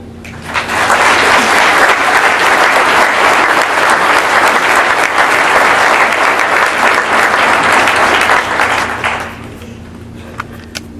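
Loud, dense audience applause at the Forest Institute 2014 commencement greets a speaker, swelling quickly and holding steady for about eight seconds before fading into a few scattered claps.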